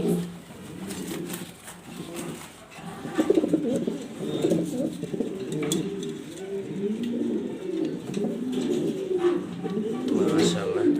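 Black exhibition pigeons coo in their loft, a continuous close run of low, rolling coos with overlapping calls, while a voice talks over them at times.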